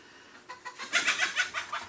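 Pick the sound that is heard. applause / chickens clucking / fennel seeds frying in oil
chickens clucking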